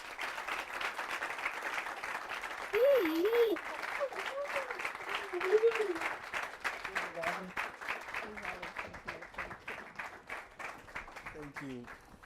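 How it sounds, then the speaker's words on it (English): An audience at an alumni event applauds a guest walking on stage, with sustained clapping for over ten seconds and scattered whoops and voices rising above it. "I would like to welcome on stage with a round of applause, Ni Sanku."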